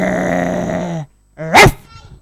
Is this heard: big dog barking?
yes